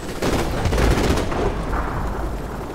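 Dense, continuous gunfire and heavy blasts from a Call of Duty 4: Modern Warfare Remastered battle, a loud, sustained wall of shots with no pause.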